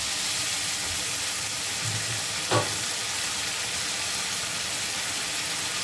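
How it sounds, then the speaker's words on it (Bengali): Mustard paste water poured into frying fish curry, a steady loud sizzle with a brief splash in the middle, close up. "এখন আমি সর্ষে বাটা জলটা দিয়ে দিচ্ছি।"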